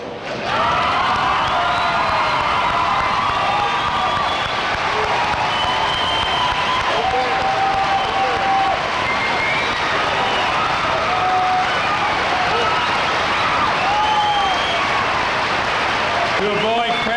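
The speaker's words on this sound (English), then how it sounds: "let's all stand and applaud the graduates" A standing graduation ceremony crowd applauds the graduates, loud sustained clapping mixed with cheers and whoops, a continuous roar of many hands and voices lasting the whole stretch.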